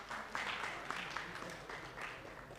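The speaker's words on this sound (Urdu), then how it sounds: "تو طارق وزیر آپ سب کی بہت ساری تالیوں میں." Applause from an audience at a Unity Pakistan Forum and Urdu Times community event, a steady wash of clapping from a crowd filling the room throughout.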